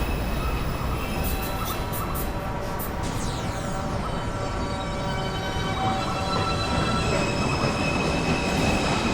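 A New York subway 2 train, R142 or R62 stock, at 207 Street Station, rumbling loudly and steadily with shrill wheel squeal across the whole stretch and no talk.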